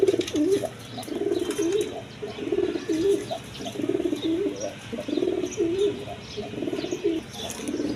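Pakistani Peshawari and Lahori pigeons kept at home coo close by in repeated rolling phrases, with a few faint chirps and a brief flutter of wings, and no voices over them.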